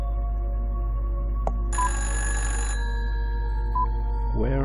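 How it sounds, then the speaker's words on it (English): A single harsh, buzzing telephone ring from the video game Fran Bow lasts about a second. It sounds over a constant low drone and quiet game music. "Where is the phone ringing?"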